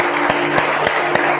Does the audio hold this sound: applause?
yes